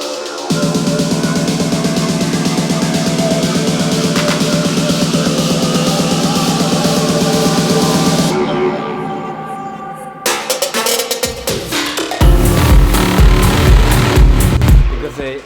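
A melodic techno track builds toward its drop: a steady, loud electronic groove with a dense low pulse runs for about eight seconds, thins into a brief sparse break, then returns fuller and brighter in the final seconds.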